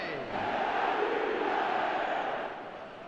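A stadium crowd in the football video game eFootball keeps up a broad, steady roar that swells and then eases slightly toward the end, with no clear voices above it.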